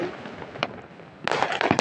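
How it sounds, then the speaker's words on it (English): Fireworks and firecrackers on New Year, one lone bang followed after a pause by a rapid cluster of loud cracking bursts and pops. "It's been a while since I see the fireworks again."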